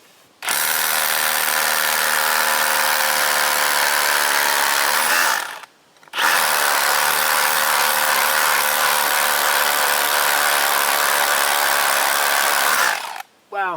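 Power drill boring holes into soft stone at a homestead site for a firewood drying shed, a loud steady grinding whine running in two long bursts separated by a short pause.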